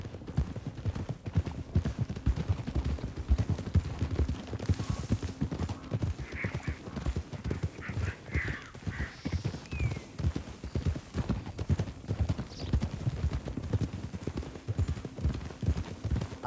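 Horse hooves clip-clop in a steady walking rhythm close by in the video game Red Dead Redemption 2, with a few brief whinnies and snorts layered over the plodding steps.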